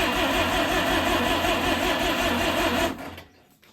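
A Mazda 323 with a turbocharged 13B rotary engine cranks over with a fast, steady mechanical churn, close and loud, without starting, then cuts off and falls quiet near the end.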